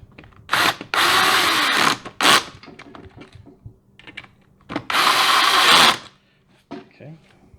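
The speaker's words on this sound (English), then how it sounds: "back to our handy dandy drill" Cordless power drill assembling a big and tall gaming chair, with two long whirring bursts and a short one between them, close by, separated by quieter handling clatter and occasional talk.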